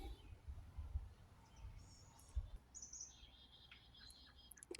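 Faint, distant bird chirps and short tweets beside a creek, thin scattered calls over low rumbling wind or handling noise, quiet and without speech.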